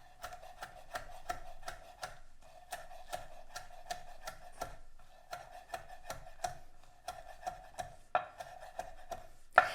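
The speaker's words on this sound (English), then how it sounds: "So I have about 4 chives here, and I'm just gonna chop them up small." A knife chops about four chives into small pieces on a board, producing quick rhythmic taps in bursts separated by short pauses, close and crisp, with no voices.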